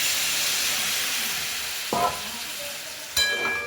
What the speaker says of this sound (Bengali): এবার এটা কষতে দেব।